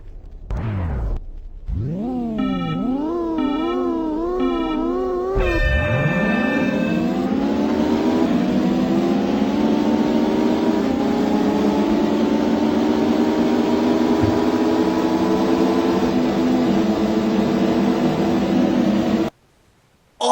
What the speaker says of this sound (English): pay attention to the sound of the engine on the car.